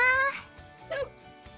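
A dog in the Gin'iro Haruka video game gives two short, high, tonal howls, the first longer and the second briefer, close and clear with no speech.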